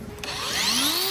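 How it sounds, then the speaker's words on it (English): An angle grinder skims over the inner claw of a cow's hoof during trimming, a brief rising whine that climbs in pitch as the disc spins up, fairly loud and close with no speech. "Skimming the grinder over this inner claw, you can clearly see the pith now."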